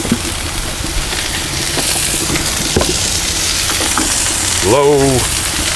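Chicken cheesesteak meat sizzles on a Blackstone flat top griddle with a steady broadband hiss throughout, a few faint scraping taps, and a brief voice near the end.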